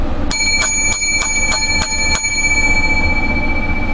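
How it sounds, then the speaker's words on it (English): A bright bell rings seven times in quick, evenly spaced strikes, each ringing on briefly before the next, then fades out over a low steady background hum. "Gotta have the lucky seven bells."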